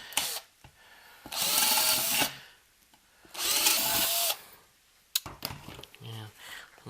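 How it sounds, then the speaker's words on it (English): A power drill bores out holes in a metal chassis for a DIY phono preamp, two loud, close bursts of whining, grinding drilling about a second each, separated by pauses, with brief talk near the end. "now I need to come back and drill out all of these chassis holes a little bit to this size bit that I have here"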